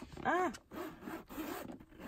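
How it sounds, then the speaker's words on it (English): A Coach handbag zipper is pulled in a few short, scratchy strokes at close range, with brief pauses between the pulls. "And the zipper works very well."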